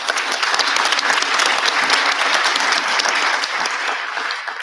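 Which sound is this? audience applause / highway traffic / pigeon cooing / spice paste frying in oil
audience applause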